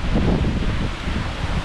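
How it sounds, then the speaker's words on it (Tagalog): Typhoon wind at a camper van basecamp, a continuous loud rushing roar buffeting the microphone with rustling, no voices. "Narinig ba dito yung hangin"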